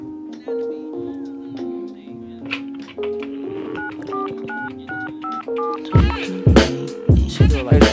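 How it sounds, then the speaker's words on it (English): Telephone dialing tones, a rapid run of steady beeping keypad tones of varying pitch, followed by louder sharp hits, with voices talking over them. "Yo, that's the phone"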